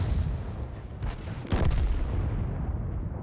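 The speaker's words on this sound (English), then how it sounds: "Artillery hits us as well." In a tank video game, artillery shells strike a T1 Heavy tank: two heavy, booming impacts land close together about midway, each a loud rumbling crash over a continuous low battle drone.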